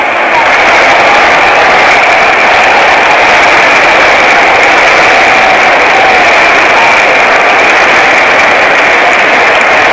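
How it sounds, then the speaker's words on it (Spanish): Loud, sustained applause from a church audience during a service, a thick continuous roar of clapping blended with crowd noise and a droning low hum, with voices faintly mixed in. "Un aplauso a Jesús."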